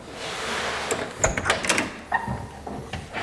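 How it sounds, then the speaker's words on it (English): Door of a 1972 Chevrolet Monte Carlo opening, a few close mechanical clicks and a latch clunk over quiet background noise, no talking. "As we open up the door"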